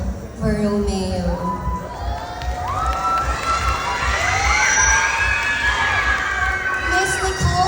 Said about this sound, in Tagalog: Sabay-sabay po nating palakpakan at hiyawan ang nag-iisang kawangis ni Miss Nicole Borromeo.